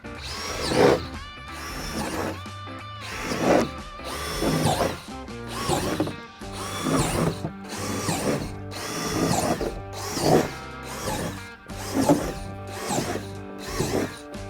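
A power drill whirs in repeated short bursts, roughly one every second or so, spinning up and stopping over and over at close range.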